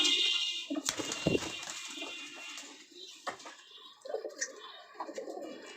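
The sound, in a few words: Jalali pigeons cooing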